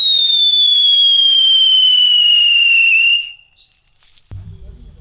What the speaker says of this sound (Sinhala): තුන්වෙනි බඹර චක්‍ර පත්තු කරනවා.